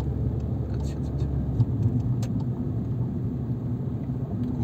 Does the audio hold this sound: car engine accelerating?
yes